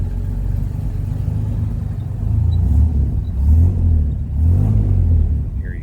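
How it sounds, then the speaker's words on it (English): A 1950 Chevrolet Fleetline Deluxe engine with a split manifold idles with a deep, steady rumble, then swells in two or three revving blips, each louder and throatier, with no voices over it. "Here you get that cool 50s hot rod sound out of that split manifold."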